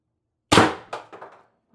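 A Pistelle X-68 CO2 pistol fires a single sharp, close shot, followed by a quick metallic ring and a short decaying echo.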